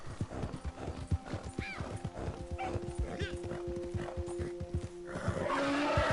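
In the video game Red Dead Redemption 2, a horse's hooves clip-clop at a steady trotting rhythm and the horse neighs over them, set against dense game ambience.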